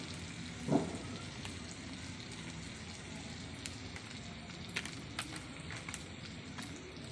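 Cumin and coriander powder fry in a pan on a gas stove for masala ghugni, making a quiet, even sizzle with an occasional soft knock and light stirring clicks.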